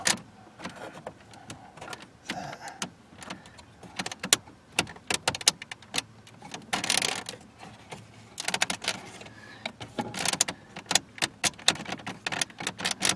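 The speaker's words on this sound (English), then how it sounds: "I hate creaky old plastic." Old plastic interior trim on a Nissan Sentra creaks and clicks in sharp irregular bursts, close up, as a trim panel is pried and flexed.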